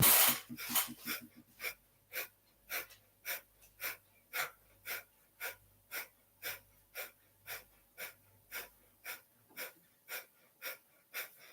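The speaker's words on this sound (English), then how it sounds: "it becomes much more of a pumping, massaging, bellows type breath type thing" Bellows-type pumping breathing exercise, about twenty sharp, evenly spaced nasal exhales in a steady rhythm, close and alone, with faint breaths between them.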